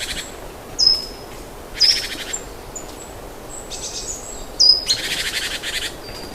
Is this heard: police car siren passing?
no